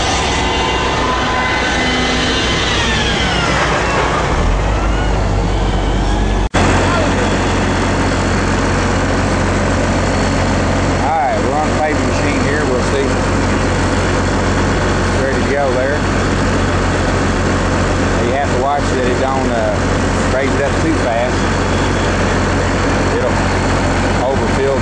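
An asphalt truck loaded with paving mix idles before backing up to unload, giving a loud, steady low engine drone that runs the whole time, with a sharp shift in tone early on and voices talking over it.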